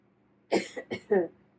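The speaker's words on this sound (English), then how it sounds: "got a little bit of a cough" A single person coughs in a short burst of three or four rough, throaty hacks, close and fairly loud in an otherwise quiet room.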